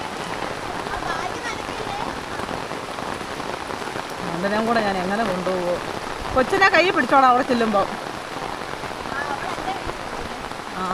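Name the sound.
heavy rain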